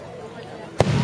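Fireworks on New Year's in Richmond, with one sharp firework bang near the end after a quiet stretch of background hum, with people talking nearby.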